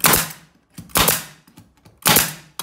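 A Lüsqtoff pneumatic nailer fires three sharp, loud shots about a second apart, each a close percussive crack with a short hiss of air and faint clicks between them.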